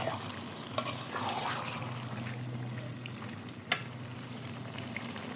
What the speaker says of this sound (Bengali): ভালো মতো গোশতটা মশলার সাথে কষিয়ে নিব, যাতে মশলাটা সব গোশতের সঙ্গে মাখিয়ে যায়।